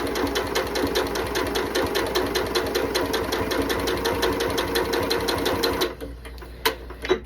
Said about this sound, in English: I'm going to sew right along that diagonal line.